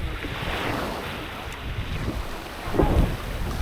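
Steady rushing wash of sea waves at Agatti Island, close by, with wind buffeting the microphone and a slightly louder surge near the end.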